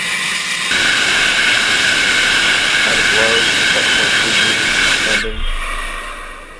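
A NASA lunar lander test vehicle hovering on its thrusters gives off a loud, continuous roaring hiss that holds steady for several seconds and then cuts off abruptly, leaving a fading rumble.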